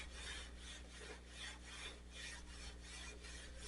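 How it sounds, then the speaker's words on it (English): Wet sandpaper rubs over car paint on a Corvair in steady back-and-forth strokes, a soft, even rasping that swells and fades in a regular rhythm, close and fairly quiet with no voices. "you're wet sanding, it'll end up looking hazier than a West Coast style IPA"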